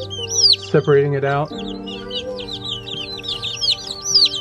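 Chickens in a brooder give clucks and high chirps throughout, with a weak chick among them, while a person talks nearby.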